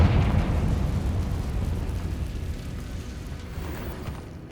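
A spell explosion in the Hogwarts Legacy video game: a loud, heavy rumbling blast at the start that rolls on and slowly fades over several seconds, with no talking.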